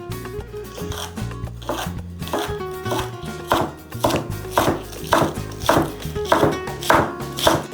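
A knife chops green onions rhythmically on a cutting board, quick repeated strikes building into a steady pace, close and clear with no talking.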